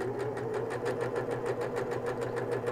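A sewing machine stitching a seam runs steadily for the whole stretch, a fast even mechanical rattle at moderate level with no talk.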